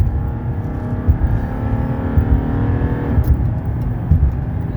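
1995 Mercedes E300 with a non-turbo six-cylinder diesel accelerating under full pedal: a loud, steady drone heard from inside, the engine note climbing through a gear, dropping briefly at a shift, then rising again, with no talking.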